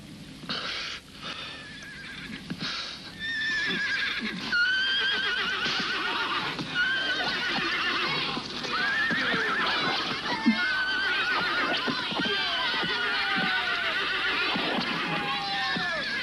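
A horse neighs repeatedly in long, shrill whinnies with wavering pitch, loud and close, in a dramatic scene with continuous background sound and a brief voice at the start.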